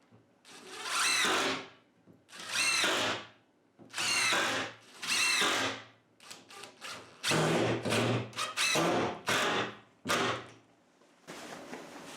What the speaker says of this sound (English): Let's get some screws in that now.